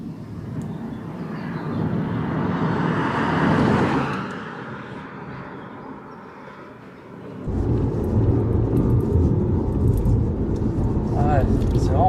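A Dacia Spring, a small electric SUV, drives along a road. A steady road and tyre rumble swells, eases, then returns louder, while people talk inside the cabin.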